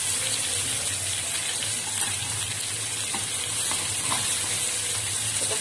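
Chital fish liver fries in a hot pan with a steady, loud, close hiss and sizzle, fine crackles running unbroken throughout, no voices.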